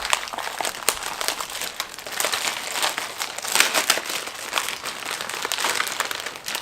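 A shopping bag from an online Amazon order is crinkled and rustled while being unpacked, giving a continuous, close, crackling plastic rustle with irregular sharper crunches throughout.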